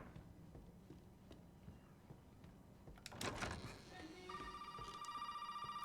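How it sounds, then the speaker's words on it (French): In the Resident Evil 7 video game, a telephone starts ringing after a door-like clatter, its electronic ring repeating steadily in the background over the last couple of seconds. "Téléphone sonne, c'est pas plus grave que ça."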